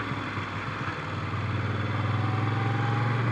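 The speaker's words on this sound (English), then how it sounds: "hopefully you can kind of hear how this motorcycle accelerates." A 2021 Moto Guzzi V7 Stone motorcycle engine accelerates, a loud, steady mechanical drone that swells gradually with a faint rhythmic pulse, heard up close with no voices.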